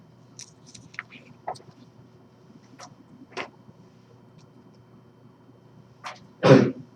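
A single loud sneeze near the end, after quiet scattered clicks and faint rustling.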